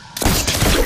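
Gunfire from a Fortnite trick shot, a sudden loud burst of shots packed into under a second.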